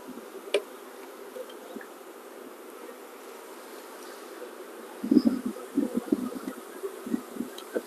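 Honeybees in a small hive with a double screen bottom board, just smoked, give a steady low buzzing hum throughout, swelling louder with busier bursts of wingbeats near the end.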